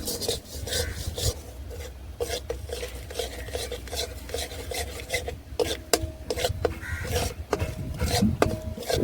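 Sugar cooking and caramelizing in a pan for malai ice cream, stirred nonstop with rapid, rasping scrapes and occasional clinks against the pan, dense and close with no pauses.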